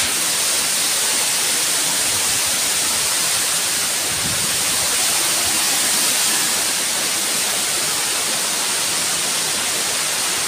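The Kaijoda waterfall in Keonjhar roars as a loud, constant broadband rush of falling water, steady and unbroken throughout with no audible voices.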